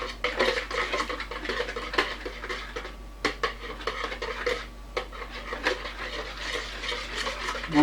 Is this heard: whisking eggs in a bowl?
yes